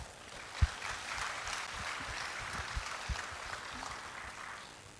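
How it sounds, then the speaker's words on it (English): Scattered applause from a tech conference audience at an open-source summit, a broad, steady wash of clapping at moderate level that tapers off toward the end. "So big round of applause for our sponsors."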